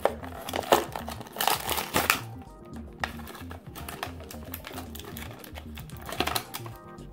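Mega Construx Kratos figure packaging is torn open and crumpled by hand, loud close bursts of crinkling and ripping cardboard and plastic, busiest in the first two seconds, then quieter rustles with more bursts later.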